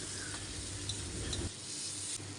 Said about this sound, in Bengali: পেঁয়াজটাকে লবণ দিয়ে তেলের সাথে অনেকক্ষণ ভেজে নিয়েছি আর এখন দিয়ে দিচ্ছি দুই চা চামচের মতো আদা রসুন কাঁচামরিচ পেঁয়াজ বাটা